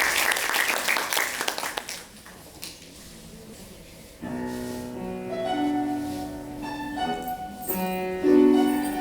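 Audience applause at a concert and book presentation, loud broadband clapping for the first two seconds that fades into quieter scattered claps, followed by a singer's voice with instrumental accompaniment taking over.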